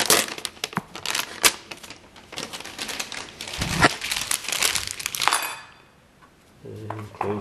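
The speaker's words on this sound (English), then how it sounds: "I'll take this piece of tape, put the tool down and cut that off." Tape being handled, pulled and cut while laying down planks: close, continuous crinkling and rustling with sharp clicks that stops suddenly, leaving a short quiet before a few faint knocks.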